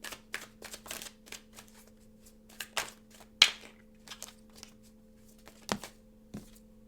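Tarot cards shuffled by hand in a quiet room, a series of soft riffling bursts and crisp flicks at uneven intervals, with one sharper snap near the middle.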